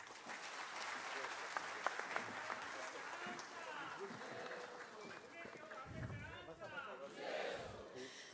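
An audience at the Bahishkrut Hitkarini centenary celebration bursts into sustained applause after Sambhajiraje Chhatrapati's speech. The dense clapping runs throughout, mixed with crowd cheers and shouts.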